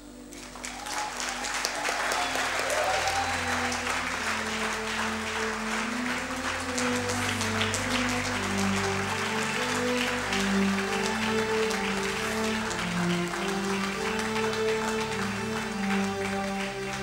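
Church congregation clapping at a service, a dense, steady roar of many hands over sustained organ or keyboard tones, loud and continuous throughout.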